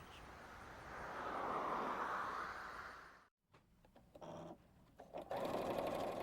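A sewing machine stitches in a steady, faint whirring run, stops abruptly, then restarts in short bursts before running again, with no talk over it.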